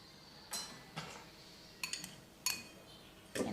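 Cubes of butter dropped one by one into a mixing bowl, giving five soft, separate thuds with light clinks spaced about half a second apart, close and fairly quiet.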